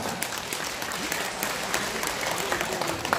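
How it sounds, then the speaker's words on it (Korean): Audience applause at a morning civic gathering of party officials and civic group representatives, a steady, dense patter of many hands sustained evenly for about three seconds at moderate volume, with no voices over it. "감사의 박수부터 보내겠습니다"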